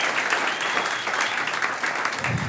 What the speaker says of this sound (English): Don't clap too hard.